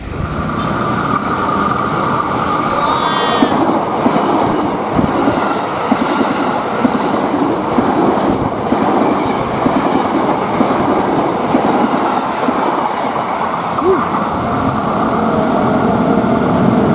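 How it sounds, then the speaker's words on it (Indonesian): An Indonesian executive passenger train rushes past close by at speed, a loud continuous roar of wheels on rails with rhythmic clacking and rattling throughout, amid wind and rain. "Keretanya tancap gas."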